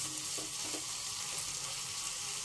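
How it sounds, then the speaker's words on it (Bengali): Two cloves of garlic frying in hot oil in a pan, a steady close sizzle hissing continuously with a couple of faint stirring knocks near the start. "এখন আমি এগুলাকে ভালো করে লাল লাল করে ভেজে নিব"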